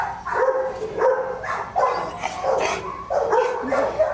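Several dogs bark in repeated short bursts at an animal shelter, some yips mixed in, fairly close against a low background murmur.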